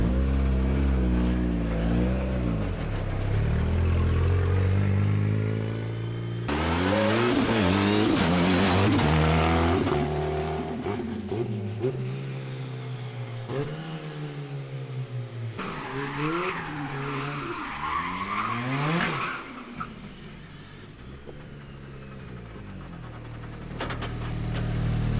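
A Fox body Mustang with a turbo, sequential gearbox and built engine driving on a test run, loud engine revving up through repeated gear changes with rising and falling pitch sweeps and some tire noise, close and continuous with no talk.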